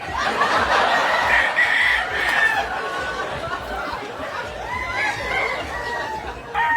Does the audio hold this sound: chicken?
yes